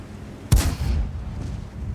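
An artillery shell from a T21 in World of Tanks slams into the ground on the Highway map: one sharp, loud boom, then a rumbling decay that fades over the next second.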